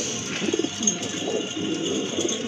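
Pigeons cooing softly at close range, a low murmuring coo repeated under a steady hiss of background noise, with no voices.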